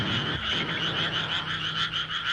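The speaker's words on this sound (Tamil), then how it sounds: "அடடா, தவளைங்க, தவளைங்க தவளைங்க." Cartoon frogs croaking in a steady, rapid chorus of repeated raspy pulses over a continuous background hum, moderately loud and with no talking.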